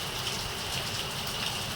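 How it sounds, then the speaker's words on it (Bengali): Heavy rain pours down in a steady, dense hiss of drops on surfaces, unbroken and fairly close, with no voices. "একদম খুব জোরেই বৃষ্টি হচ্ছে"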